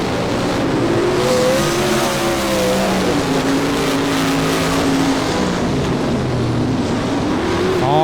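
Race cars roar continuously around the oval at Monarch Motor Speedway, engines droning loud and steady with rising and falling pitch as cars pass, without a break.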